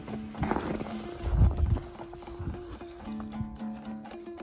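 Horses moving about and eating hay on a winter farm, with irregular hoof steps and shuffling, soft rustling and chewing, a brief snort, close by and without talk.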